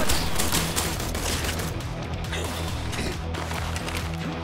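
Sniper rifle gunfire in the video game I Am Your Beast: loud, dense bursts of overlapping shots and impacts crackle throughout, layered over a steady low musical drone, with no talking.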